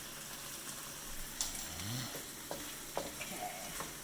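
Shrimp frying and being stirred in a pan for Japanese fried rice, with a soft steady sizzle and a few scraping stirs, fairly quiet and close with no one talking.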